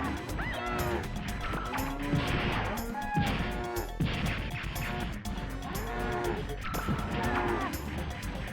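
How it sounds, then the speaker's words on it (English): In the video game The Misadventures of Tron Bonne, cattle moo repeatedly in close succession, mixed with clattering game effects and crashes. "That cow moving again."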